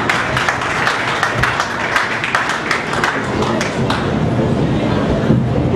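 A church congregation gives a sustained round of loud clapping during a service, dense sharp claps over a rumbling room background for several seconds, fading slightly toward the end.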